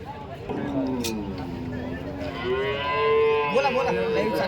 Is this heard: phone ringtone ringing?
no